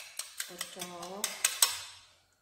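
Eggs beaten in a bowl for an egg and cheddar cheese sandwich, a series of close, sharp utensil clicks and taps in an uneven rhythm, fading out near the end.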